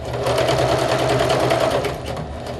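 A sewing machine runs continuously at a close, steady pace, sewing along a folded-over seam to make a finished edge.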